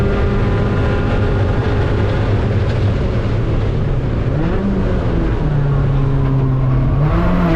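A race car at Mid-Ohio, heard from on board, howls loudly under steady throttle, the engine pitch climbing as it accelerates with no talk over it.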